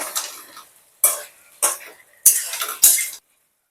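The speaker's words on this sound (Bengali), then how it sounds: "ভেজে রাখা আলুগুলোকে দিয়ে দেবো আবারও একটু নাড়াচাড়া করে নেব" A spoon stirs fried potatoes into chicken biryani cooking in a pot, making about five separate scraping, clattering strokes. Each stroke is loud and close, with short quiet gaps between them.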